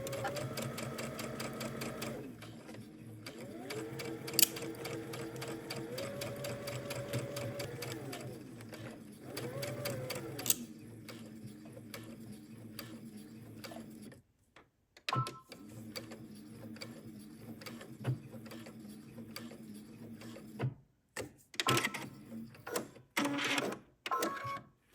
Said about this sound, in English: we're going to go to the sewing machine and just sew a straight stitch from one end all the way down to the other